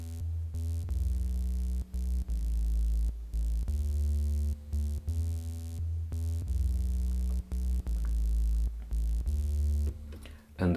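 The Tri-Bass 1 patch on a Roland analog synth plays a deep, buzzy bass line. Sustained low notes step through a repeating pattern, with brief gaps between phrases, steady and prominent with no voices.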